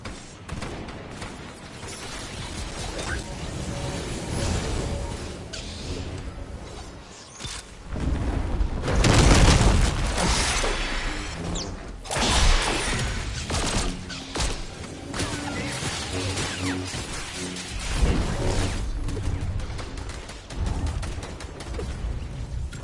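Missiles launch and explode in Fortnite during a Star Wars event, with dense, continuous mechanical rumbling and several heavy bursts, the loudest near the middle, under a steady mix of game sounds.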